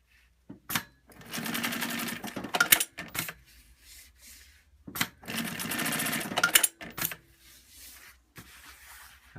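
A JUKI LU-1510N7 industrial sewing machine stitches fabric in two loud, close bursts of rapid mechanical whirring, each lasting about two seconds, separated by short clicks and quiet pauses as the work is handled.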